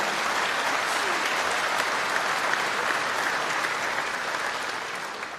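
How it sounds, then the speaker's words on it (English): Sustained audience applause fills a hall at the BAFTA Games Awards, dense and steady throughout and fading slightly near the end, with no speech over it. "a round of applause"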